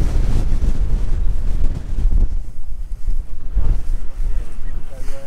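Strong wind buffets a tent on the Pen Y Fan summit in winter, a loud rumbling roar with gusts that rise and fall, right against the microphone.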